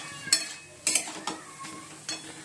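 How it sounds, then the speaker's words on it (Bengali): Spinach cooking in a pan, a low sizzle punctuated by several sharp metallic scrapes and clinks of a utensil stirring against the pan, spaced irregularly, close and with no speech. "পালং শাক বসিয়ে দিয়েছি।"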